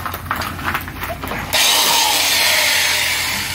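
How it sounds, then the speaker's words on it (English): A power drill whirs steadily close by, biting into wood for a few seconds after some brief clattering handling noise. "So now we can drill this one from this side."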